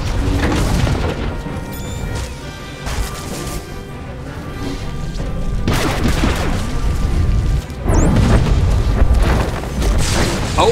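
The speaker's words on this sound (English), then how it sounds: "the knight detonates the research terminal. This explosion finished off the jungle crawlers" A research terminal detonates in the Star Wars: The Old Republic Taral V flashpoint, with heavy booming blasts and crashing debris in several loud bursts over a rumbling combat background.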